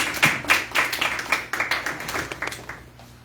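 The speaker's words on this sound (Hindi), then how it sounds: "मैं आप सबसे गुजारिश करूंगा कि भाई जहीर के लिए और पूरी टीम के लिए जोरदार तालियां।" A church congregation claps for a team, a loose run of overlapping hand claps with uneven rhythm that holds steady throughout at moderate distance, with no voices over it.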